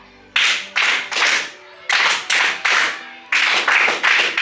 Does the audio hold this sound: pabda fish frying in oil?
no